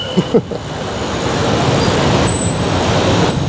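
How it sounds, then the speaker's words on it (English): Busy city road traffic in Manila drones steadily near a river, a dense wash of engines and tyre noise with a faint high whine and brief squeaks, no talk. "It must suck to drive around here with all this traffic."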